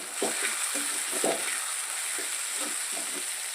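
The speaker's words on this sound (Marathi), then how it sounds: "म्हणजे टमाटर लवकर भाजतंय।" Chopped tomatoes with a pinch of salt frying in a pan, a constant soft sizzle overlaid by several scraping stirs of a spoon, close and fairly quiet.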